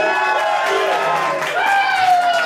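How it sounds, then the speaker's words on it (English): A crowd at a live band set at Fixed Gear Brewery applauds and cheers loudly, with whoops rising over the clapping throughout. "That's a big applause for Sean."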